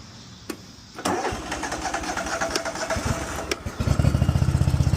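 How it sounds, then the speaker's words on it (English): A Cub Cadet ZForce zero-turn mower with 470 hours and weak hydrostatic drive, choke on, cranks and fires up, settling into a loud, close, steady chugging idle that grows into a rapid pulsing beat. "let's start it up. Let's see if she'll mow some grass"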